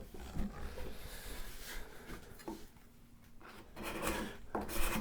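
A dull burr card scraper rasping across hard wood in a workshop, a series of close, rough scraping strokes with brief pauses between them.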